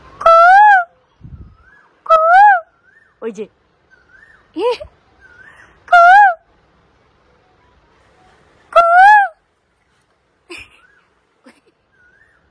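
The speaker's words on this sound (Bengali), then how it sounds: "ওই পাশ থেকে একটা কোকিল ডাকছে" An Asian koel calls from nearby, four or five loud rising whistled notes repeated every few seconds, with short bits of speech and softer sounds in the gaps between calls.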